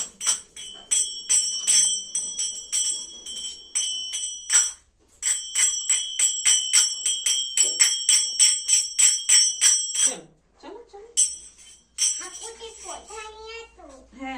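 A small child plays khartal hand cymbals, striking them in bright, rapid runs of metallic jingles. The runs pause briefly between bursts, and a voice and an adult's talk come in near the end.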